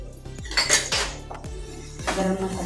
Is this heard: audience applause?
no